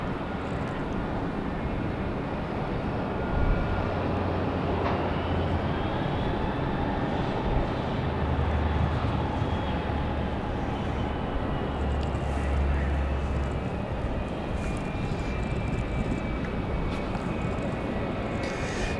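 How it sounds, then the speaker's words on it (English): A FedEx jet lands in gusty wind at Raleigh-Durham International Airport, its engines making a sustained, loud roar whose pitch slowly rises and falls over nearly twenty seconds, with a low rumble underneath. "Nice arrival for FedEx."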